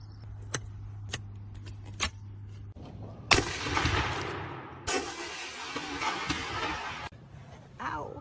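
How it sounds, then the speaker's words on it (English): A 12 gauge double barrel shotgun fires both barrels at once in one huge, close blast, followed by a second loud report and rumbling echoes, with small clicks and handling sounds before the shots. "The 12 gauge double barrel shotgun with both barrels going off at once"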